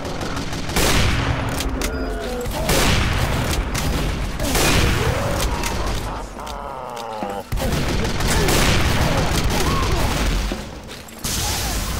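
Gunfire in Team Fortress 2 on a woods map, repeated loud shots and bursts coming in clusters with brief gaps, mixed with battle clatter and character voices calling out.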